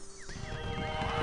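A brief horse whinny in the video game Black & White, thin and slightly synthetic, over a steady background hum, lasting about a second.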